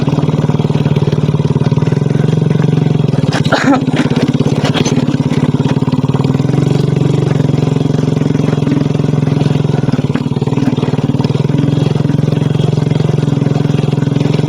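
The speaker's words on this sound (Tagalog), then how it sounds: "Tignan natin kung hanggang saan na kaya na itong motor." A motorcycle engine runs steadily at close range with a constant drone, a brief rougher burst partway through, and no talking.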